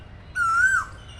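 An Asian koel sits hidden among the leaves near the top of a tree by a lotus lake and gives one clear, fairly close whistled call that rises and then dips, with quiet ambience on either side.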